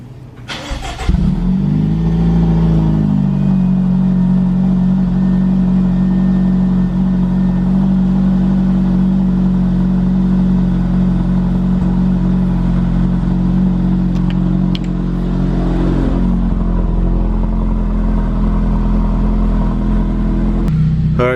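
Kia Stinger / Genesis G70 2.0 with a MagnaFlow exhaust and mid pipe cold-starting: a quick crank catches into a loud, steady, deep high-idle drone close by, holding for many seconds.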